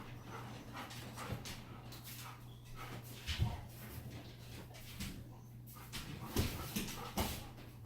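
A dog whimpers softly in short, faint bursts against a steady low hum, during an outdoor remote collar training session, with brief louder yips near the middle and end.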